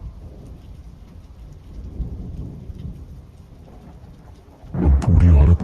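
Rain falls as a steady, moderate hiss in a Hindi horror story, then a loud crash of thunder bursts out near the end and swells over the downpour.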